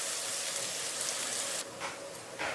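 Onions and green chilies sautéing in oil in a pan give a steady, dense sizzle, a continuous crackling hiss that dips briefly and then swells back, heard close and alone.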